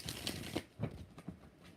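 Tarot cards being shuffled, a run of soft riffling bursts with crisp flicks at irregular intervals, close and fairly quiet, with no voices.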